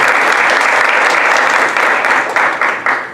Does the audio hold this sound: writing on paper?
no